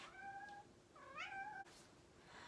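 Two house cats meow in a few clear, tonal calls close by, with a pause between them and quiet room air behind, no talking.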